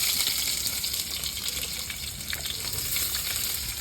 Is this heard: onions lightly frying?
yes